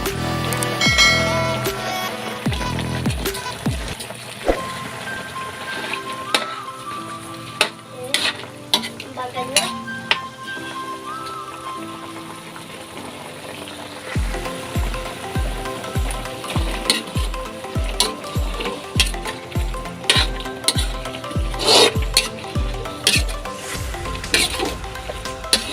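Chicken cubes fry and get stirred in a pan for a creamy chicken dish with cream and corn, a busy sizzle with clinks of utensils and, later, a fast rhythmic run of scraping strokes.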